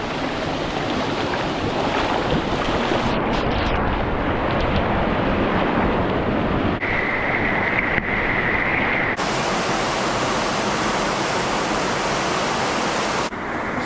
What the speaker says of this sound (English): I didn't even know these waterfalls were here